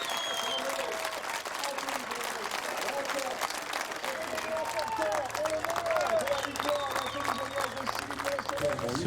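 A home crowd applauds and cheers at the 2015 Nogaro European truck racing championship, steady dense clapping throughout with voices and commentary mixed in and a low engine drone in the background.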